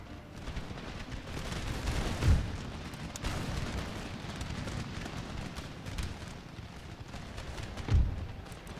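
Musket volleys in an Empire Total War battle at an Indian river crossing: two heavy, booming discharges several seconds apart over a continuous rumbling battlefield din, moderately loud and without speech.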